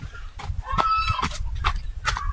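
Chicks and poultry clucking and cheeping on a rural farm, with a turkey nearby, several short calls scattered over a constant high background hiss and low rumble, moderately close.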